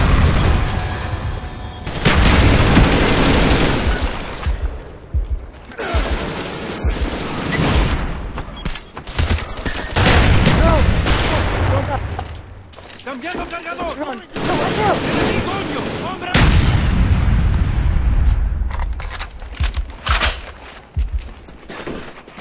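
Dense gunfire and explosions from a Call of Duty-style Search and Destroy round, with repeated bursts and booms layered over a player talking throughout, loud and close.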